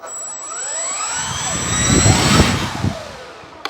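The electric motor of an RC Fi 156 Storch model plane spins up, a rising high-pitched whine that swells and sweeps in pitch over a few seconds before easing off, close and fairly loud with no talk.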